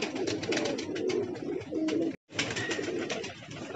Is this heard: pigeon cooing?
yes